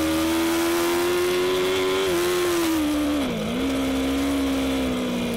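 A racing motorcycle at the Varano circuit holds a steady, loud engine note at high revs, with a brief dip in pitch and then a recovery. It stays close and continuous throughout.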